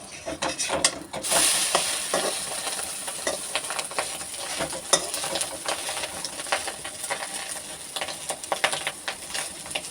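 Fish roe fritters, seasoned only with salt and turmeric, fry in hot oil with a steady crackling sizzle, punctuated by scraping and stirring clicks from a utensil in the pan, close and fairly loud throughout.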